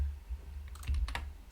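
A few keys are struck on a computer keyboard while short text is entered, a cluster of close, light clicks in a soft, irregular burst over a quiet room hum.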